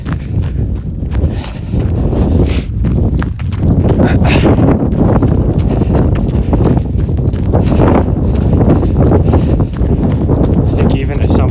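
Gusty wind roars steadily across the microphone on an outdoor run in snow-squall weather, a loud, continuous rumble with faint footfalls and occasional voice underneath.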